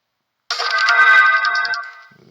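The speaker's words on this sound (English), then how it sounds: "I turned my phone on, and I guess I get notifications." A phone just switched on plays a bright, chiming electronic notification tune for about a second and a half, loud and close, then fades out, with no talking.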